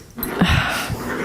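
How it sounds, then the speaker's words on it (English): Dogs scuffle briefly, a short burst of close wheezy growling and whimpering noise with no talk over it. "I hope you hear more music playing than my dogs fighting right now."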